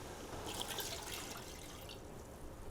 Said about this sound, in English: So we put water or chicken stock in